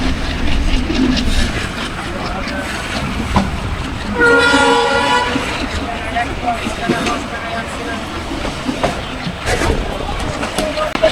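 A Mallika commuter train runs from Rajshahi toward Chapai Nawabganj, its steady rolling rumble and rattle filling the clip, with a horn-like tonal blast rising around the middle and faint voices underneath.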